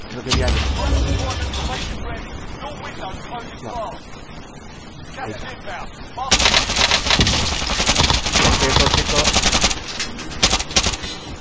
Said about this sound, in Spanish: Ahí se están disparando, pero es que no me disparan.